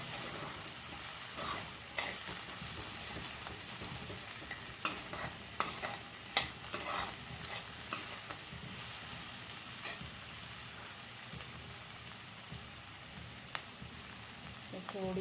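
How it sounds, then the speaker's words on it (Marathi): Mixed vegetables for hakka noodles stir-fry over a high gas flame, a steady close sizzle with frequent spatula clicks and scrapes against the pan, quiet overall. "तर गॅस मी मोठाच ठेवलेला आहे. भाज्या परतवून घ्यायच्या."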